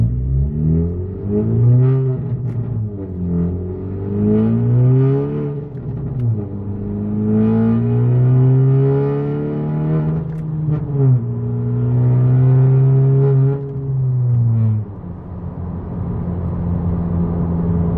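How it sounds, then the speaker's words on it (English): A loud 10th gen Honda Civic Si revs repeatedly, the engine tone climbing and falling in strong sweeps with popping two-step launch control bursts, heard close and alone. "I'll hit the two-step for you guys so you guys can hear that on the GoPro and everything"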